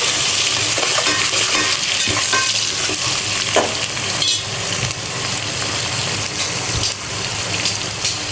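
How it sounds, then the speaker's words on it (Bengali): Onions frying in a pan for a Bihari-style meat curry, with bay leaf, garam masala and garlic, give a steady, close, broadband sizzle with stirring scrapes throughout and no talk. "এই যে পেঁয়াজ ভাজা হয়ে গেছে"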